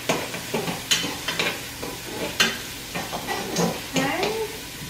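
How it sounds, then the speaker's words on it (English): Spoon stirring vegetable minestrone in a pot on the stove, a run of scraping and clinking strokes over a soft sizzle, with occasional quiet talk. "Let me go ahead and just stir this a little bit with my spoon."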